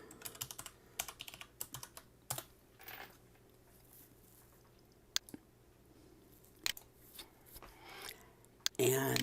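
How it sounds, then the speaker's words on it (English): Keys tapped on a computer keyboard while a password is entered, a quiet run of irregular clicks in short bursts, close up, with faint background hum and a louder clatter at the end. "and key in our password."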